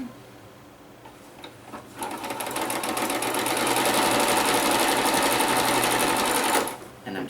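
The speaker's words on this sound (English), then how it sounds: "let me get a few stitches done" A sewing machine stitches fabric for a quilted machine cover, starting with a few clicks and then running in a loud, steady whirring rattle for several seconds before stopping, with no talking over it.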